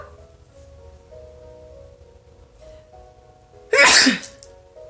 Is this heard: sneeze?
yes